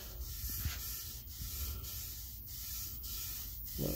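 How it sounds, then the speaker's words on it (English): Wood sealer is rubbed onto a segmented wooden vase with a bison skull design, a steady soft scrubbing hiss with light regular strokes that hold at an even, close level throughout. "I'm going to be putting a sealer on here first"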